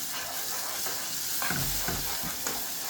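Spice masala tossed into a hot pan, frying with a steady sizzle while a utensil stirs and scrapes in a few distinct strokes, close and fairly loud, with no talking.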